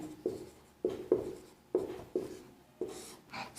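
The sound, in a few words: writing the solution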